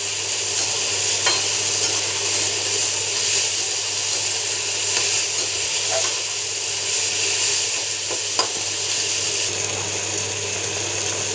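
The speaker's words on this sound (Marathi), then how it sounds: "इथे बघा, टमाटर कांदा असं बारीक वाफवून घ्यायचा." Chopped tomato and onion sauté in a pan with a steady, even sizzle and a few faint utensil scrapes and clicks, and no talking.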